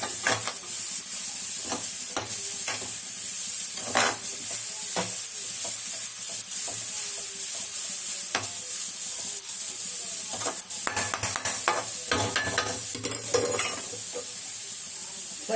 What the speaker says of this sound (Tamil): இப்போ கேரட்டு நல்லா வதங்குது.